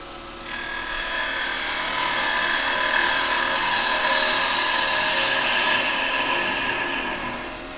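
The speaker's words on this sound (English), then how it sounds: "I'm going to use a square carbide just to square that end off" A square carbide tool cuts into the end of a wooden workpiece spinning on a lathe, giving a steady, rasping scrape over the motor's hum that swells and holds for several seconds.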